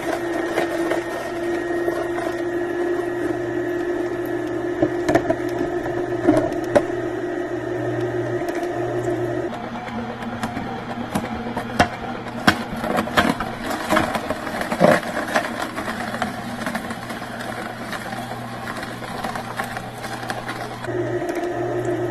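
Two masticating juicers, a Kuvings B6000 and an Omega VSJ843QS, running side by side, giving a low steady motor hum with a rhythmic mechanical whir and a few small knocks, fairly quiet and close.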